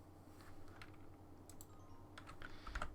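Faint, scattered clicks of a computer mouse and keys from someone playing Minecraft in a quiet room, irregular and soft, with no voices.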